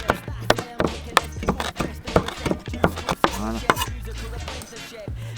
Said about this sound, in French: Alors l'estragon, vous le ciselez manuellement.